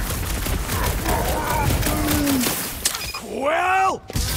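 Gunfire in the Marvel's Guardians of the Galaxy video game on PlayStation 5: loud, dense shots mixed with groaning creature sounds and in-game character voices.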